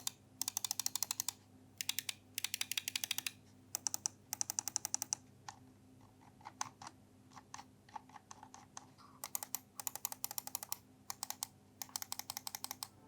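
Razer Viper V2 Pro mouse with optical switches, rapid bursts of crisp, close button clicks in quick clusters separated by short pauses, with a few slower single clicks between.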